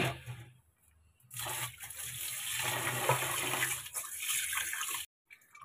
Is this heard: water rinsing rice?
yes